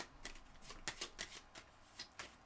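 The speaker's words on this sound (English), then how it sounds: "one last little shuffle here." A deck of tarot cards is shuffled close up, giving a series of quiet, crisp riffling and slapping bursts in an uneven rhythm with no talking.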